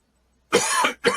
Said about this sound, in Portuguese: essa tosse não é possível